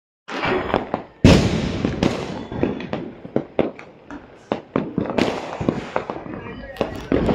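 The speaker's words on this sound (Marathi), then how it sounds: "मी फटाके फोडले तुम्हाला दाखवतो" Diwali firecrackers and fireworks bursting repeatedly outdoors, a dense run of sharp cracks and pops at varying distances with one loud close bang early on, with a voice talking over them.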